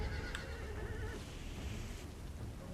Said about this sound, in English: Now the mercenary noble horse dying for free.